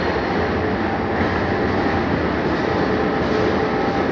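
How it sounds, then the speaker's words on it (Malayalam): A wooden escalator built in 1933 runs inside a tunnel, giving a steady, dense rumbling roar with a faint rhythmic clatter that stays even and close throughout, with no voices. "1933 ഉണ്ടാക്കിയ മരം കൊണ്ടുള്ള എസ്കലേറ്റർ ഒരു രക്ഷയില്ല"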